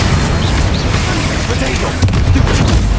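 Booming spell blasts and impacts from combat in Hogwarts Legacy, loud and continuous for about three seconds with rumbling low-end bursts layered under a speaking voice.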